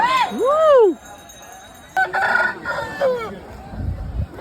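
Roosters crow in green fields at a Sankranti cockfight in the Godavari region, with one loud, close crow at the start followed by a second, rougher crow answering a moment later, and faint clucks and rustling at the end.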